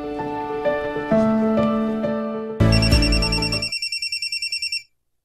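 A telephone rings with a musical electronic tone, bright sustained notes changing pitch, then a rapid trilling burst of repeated pulses before it stops abruptly; no voices.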